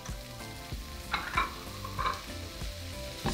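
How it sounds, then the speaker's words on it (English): Small pieces of bacon frying in a hot frying pan, a soft close sizzle with a few clinks and scrapes of a utensil, quiet and short, no talking. "we're going to throw in our bacon. So just cut it into small pieces"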